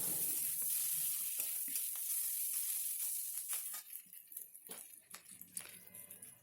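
Turmeric is stirred into a hot pan of frying ginger-garlic for coconut curry, a steady loud sizzle giving way to irregular scraping strokes of the spoon against the pan.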